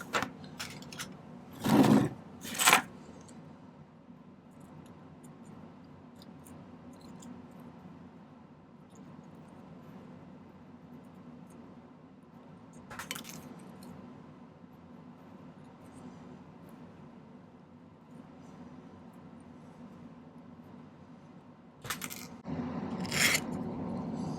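A soldered silver ring piece for a reversible ring being trimmed at the bench: a few sharp metallic snips and scrapes spaced far apart over a low steady room hum, with the longest quiet stretch between them.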